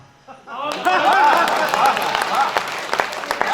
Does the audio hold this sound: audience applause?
yes